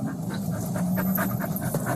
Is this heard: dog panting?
yes